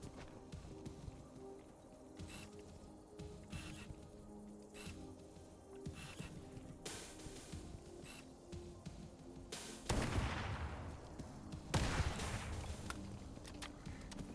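Gunfire in the Halo: Combat Evolved campaign, a quiet, busy stretch of repeated sharp shots and bursts in the game, with two louder blasts near the end.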